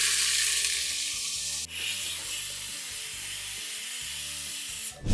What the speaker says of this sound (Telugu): ఉల్లిపాయలు బాగా వేగాలి